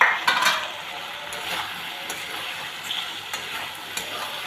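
Boiled potatoes are fried in a pan with spices and stirred for a fish roe and potato curry. A soft, continuous sizzle carries a few scattered scrapes and taps of a utensil against the pan.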